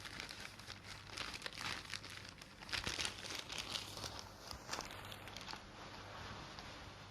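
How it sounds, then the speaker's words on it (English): A plastic bag by the door in the Love and Deepspace video game rustles and crinkles continuously, soft close crackling that swells and fades with no speech. "You may check the contents of the plastic bag by the door."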